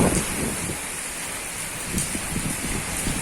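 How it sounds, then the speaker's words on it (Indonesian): Strong wind drives heavy rain against trees in a storm, a dense steady roar with gusty surges and brief sharper bursts, close and loud. "di kawasan Semarang bagian bawah ini bergoyang-goyang dengan kencang karena ditiup oleh angin"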